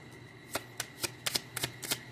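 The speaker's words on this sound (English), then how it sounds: "Let me shuffle." A deck of cards is shuffled up close, giving a quick run of crisp, papery riffles and snaps in uneven bursts, with no talking.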